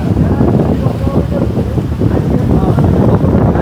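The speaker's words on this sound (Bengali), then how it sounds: "নদীতে আজকে প্রচুর বাতাস" Strong wind buffets the microphone in a constant low roar aboard a river launch, with faint voices and water noise underneath.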